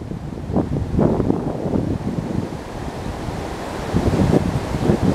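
Steady wind buffeting the microphone outdoors beside the water during a longnose gar fishing trip, loud and continuous with gusting swells, and surf or water noise underneath.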